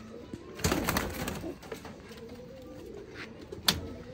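Soft cooing of fancy pigeons close by with a few rustling wing movements, two brief louder bursts standing out against a quiet background.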